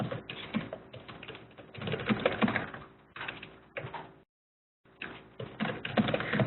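Fast typing on a computer keyboard sounds up close, with dense bursts of key clatter, a brief silent gap, then more steady keystrokes and no voices.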